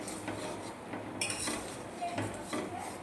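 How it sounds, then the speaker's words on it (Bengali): Mango pickle stirred in a pan, with soft, repeated scraping and clinking of a utensil against the metal over a low, steady background, quiet and close with no talking. "নাড়াচাড়া করব"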